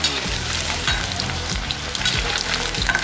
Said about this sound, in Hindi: थोड़ा थोड़ा करके हमें ये फ्राई कर लेना है,